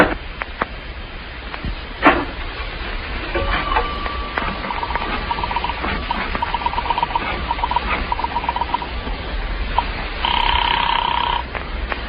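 A telephone bell rings in a 1947 radio suspense drama, sounding in two steady bursts, the longer one in the middle and a shorter one near the end, clear above a faint hiss with no talking.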